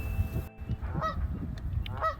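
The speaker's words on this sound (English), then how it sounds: "Some honky geese over there. They do that a lot." Geese honk by a river, a few separate honks over a low rumbling background, with no talking.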